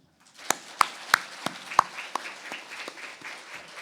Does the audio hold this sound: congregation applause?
yes